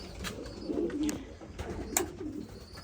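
Racing pigeons in a loft coo softly and repeatedly, low throaty rolls close by with faint rustling between calls.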